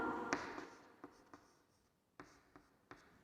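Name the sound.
writing on a board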